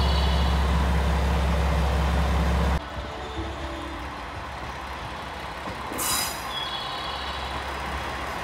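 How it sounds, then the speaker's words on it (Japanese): A train arriving at a platform on the JR Johana Line in Toyama, Japan: a loud low rumble of the approaching train cuts off sharply, followed by quieter rolling noise and a brief high screech of wheels or brakes. "列車が到着します。"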